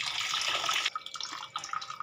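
Tamarind water poured from a vessel into a pot of fish curry, a close splashing stream that stops abruptly partway through, followed by a few softer trickles and drips.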